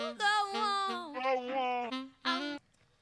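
A short run of reedy saxophone notes, cloned in an audio editor, glides through several pitches, then a final accented note cuts off, quiet and without any talking.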